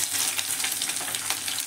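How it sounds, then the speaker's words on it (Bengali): Chopped onions hit hot oil already browning with cumin, dried red chillies and bay leaf, giving a steady close, bright sizzle with light stirring scrapes throughout and no talk. "এবার আমি এর মধ্যে পেঁয়াজগুলো দিয়ে দেবো।"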